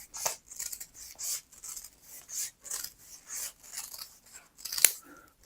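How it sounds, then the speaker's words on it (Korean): Scissors cut a piece in half with a steady run of rasping, rhythmic snips, close and fairly loud. A sharper click follows near the end. "자르고 다시 반을 자를게요"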